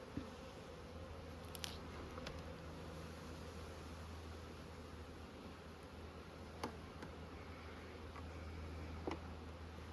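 Honeybees humming softly around an open hive during an inspection near a feeder, a low continuous drone with a few faint clicks and knocks and no talk.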